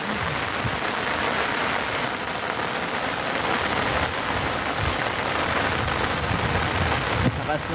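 A downpour of heavy rain roars steadily and evenly outdoors with no break, close and loud.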